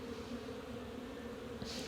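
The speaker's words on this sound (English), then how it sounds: "you can see the bees are out enjoying the weather" A swarm of honey bees buzzes outside the hive on a fine day during their cleansing flights, a dense, continuous hum with a brief louder buzz passing near the end.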